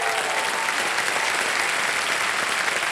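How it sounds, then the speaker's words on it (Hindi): Studio audience at a Kaun Banega Crorepati quiz show breaks into dense, sustained applause, loud and even with no talking over it. "ताली बज जाए आपके लिए, इन्होंने बजा दिया।"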